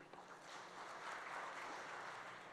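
Gala dinner audience at an awards evening applauding: a faint, steady wash of clapping from a crowd heard at a distance, sustained without a break.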